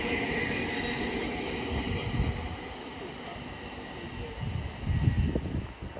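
A Class 700 electric train runs empty past Potters Bar on the East Coast Main Line, giving a steady mid-distance rumble of wheels and motors that swells slightly as it passes.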